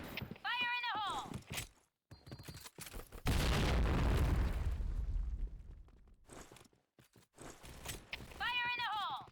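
Grenade explosion in the video game Point Blank, a loud low boom with a rumbling tail mid-clip, framed by brief voiced callouts and game effects before and after.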